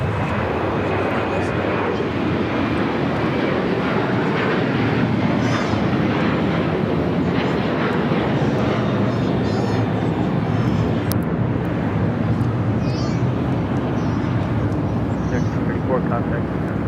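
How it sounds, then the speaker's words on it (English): A United Airlines Boeing 787-9, Flight 1140, takes off from the south side at LAX with a loud, continuous jet engine roar and rushing wind noise throughout, with faint voices under the noise. "Next takeoff here on the south side, United Airlines Flight 1140 heading to Dulles"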